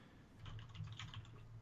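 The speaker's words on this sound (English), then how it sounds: "And I hear you typing away trying to look it up right now." Rapid typing on a computer keyboard: a quick, uneven patter of soft key clicks heard fairly close, alone without voices, under a faint steady hum.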